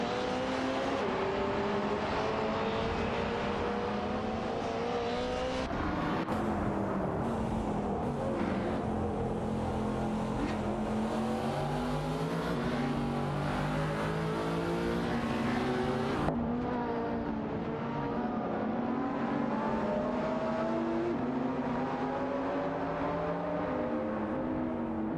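Race cars in a video game racing, engines whining and revving through rising and falling gear shifts, with cars passing close by in overlapping layers, loud and continuous.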